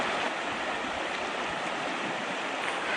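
A river in the Rockies at a crossing point rushes steadily and loudly, a dense, unbroken wash of flowing water close by with no voices.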